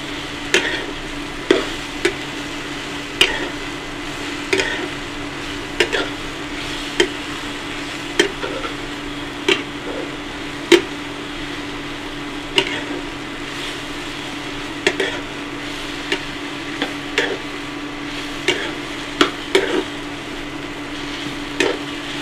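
Chicken dal sizzling in a pan while a spoon stirs it, steady frying hiss underneath with sharp scraping clicks against the pan bottom recurring every second or two, close and clear with no talking.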